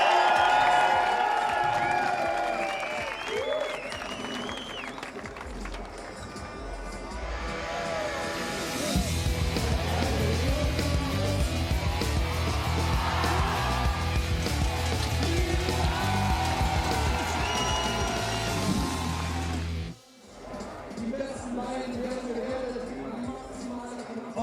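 A large Munich crowd at a BMX spine ramp event cheers, whoops and roars loudly, the noise swelling into a sustained, dense wall of sound for several seconds before dipping and continuing with scattered cheering.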